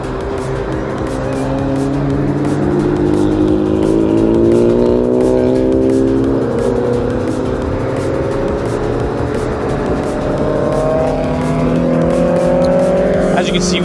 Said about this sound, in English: As you can see, we got all sorts of cars out here.